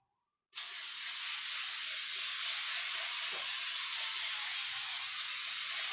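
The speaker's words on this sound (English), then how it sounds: "Now I'm giving this a good spray" After a moment of silence, a continuous pressurized cooking spray hisses steadily onto a pan close by for several seconds without pause.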